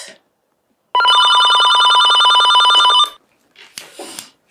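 A telephone bell rings loudly in one continuous electronic trill lasting about two seconds, then stops, followed by brief indistinct rustling sounds.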